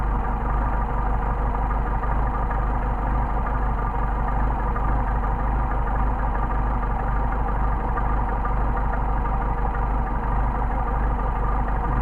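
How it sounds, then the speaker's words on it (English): A freshly rebuilt engine runs through break-in with a steady, dense roar that holds nearly constant throughout, close and loud with no talking over it. "You want to flip the throttle quite a bit and get the engine broken in."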